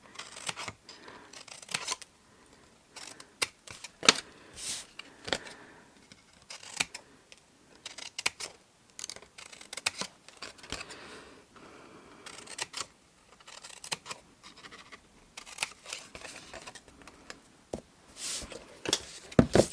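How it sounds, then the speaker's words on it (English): Very large scissors cutting a card box lid, a series of irregular crisp snips and rustles of card spread over twenty seconds, close and moderately loud. "with the world's largest scissors, repeat exactly the same on the lid. So you cut straight on the rectangle and wedge into the square"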